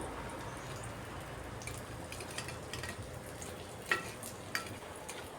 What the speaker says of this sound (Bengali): গরম তেলের মধ্যে এগুলাকে এখন ভাজতে হবে।